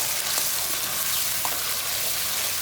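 Tomato puree cooks in a single large karai for veg biryani with onion and a couple spoons of oil or ghee, giving a soft, even sizzling hiss, faint and steady throughout with no voices.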